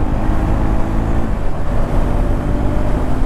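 A Triumph Scrambler 400X motorcycle engine drones loud and steady while riding on a group ride, its low rumble blended with wind and road noise and no talk.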